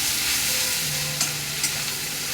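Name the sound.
onion paste frying and being stirred in pan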